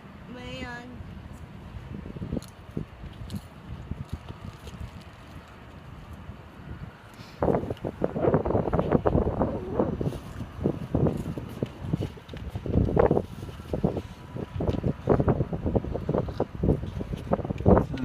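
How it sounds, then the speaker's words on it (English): Gusty wind outdoors at night buffets the microphone with rumbling gusts that grow stronger and rougher about halfway through, while a voice speaks now and then. "It's starting to get a little gusty."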